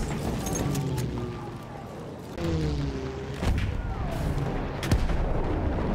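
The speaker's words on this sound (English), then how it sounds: "I'm hearing bullets." Battlefield 1 video game battle with bullets and gunfire cracking in sharp bursts over ongoing battle noise and low rumbling, a few louder shots standing out near the end.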